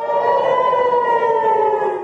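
Civil defense air raid sirens wail over Tel Aviv during a ballistic missile attack from Yemen, a loud, steady, sustained tone with rich harmonics and no break.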